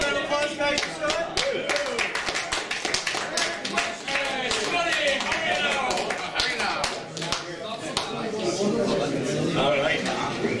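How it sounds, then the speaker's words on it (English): Audience clapping for a guest called up at a senior open house, a dense patter of hands throughout with speech and cheering voices mixed in. "Big round of applause, guys, for Scott."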